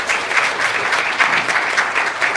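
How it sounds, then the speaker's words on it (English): An audience at a law moot competition final applauds a professor, a thick, continuous burst of many hands clapping that stays loud and steady throughout. "So please give a round of applause to Professor."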